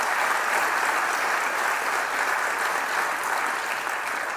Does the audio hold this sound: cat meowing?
no